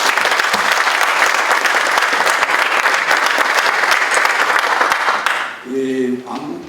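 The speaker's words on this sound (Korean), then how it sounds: "여러분, 우리 안규백 위원장님께 다시 한번 큰 박수 부탁드립니다." Loud, sustained applause from the audience at a defense industry award ceremony, a dense wash of clapping that fades out near the end as a voice begins speaking.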